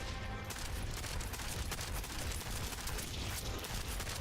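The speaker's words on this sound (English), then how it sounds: "Okay, that's a sniper rifle." Video game gunfire from a sniper rifle, heard as loud, dense, continuous bursts of shots that fill the whole stretch with no pauses.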